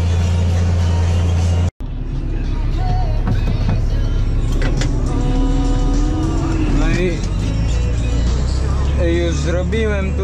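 A yellow MF 8210 tractor engine cuts out briefly, then starts and settles into a loud, steady diesel rumble close by, while someone talks over it.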